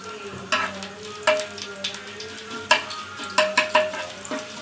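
Chopped garlic sizzling in hot oil, steady frying hiss broken by repeated sharp scraping and stirring clinks of a spatula against the pan, close and fairly loud with no talking.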